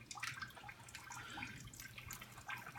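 Water bleeding out of a pressurized spring-loaded backflow preventer assembly during a cross-connection test, a steady low hiss and trickle with faint dripping, fairly quiet and continuous for a few seconds with no talking.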